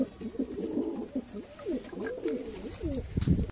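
Domestic pigeons cooing close by in a loft, a run of low, rolling warbled coos repeating steadily over several seconds with faint background noise.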